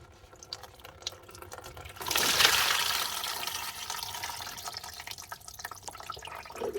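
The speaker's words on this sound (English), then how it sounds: "Make sure you've got something underneath to catch your water coming through, and that should hopefully drain it out." Water rushing and draining out of a freshly unclogged sink pipe into a catch container, starting abruptly with a loud gush, then settling into a steady splashing flow with occasional drips.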